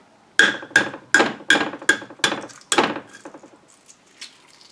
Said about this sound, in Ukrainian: тепер дістаємо яйця і починаємо їх дубасити